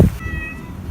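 A pet cat lets out a single short meow outdoors, close and clear, after a brief thump.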